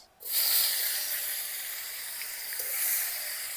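Chopped tomatoes hit hot oil in a wok and burst into a loud, steady sizzle that starts abruptly and hisses on evenly throughout, with no one talking.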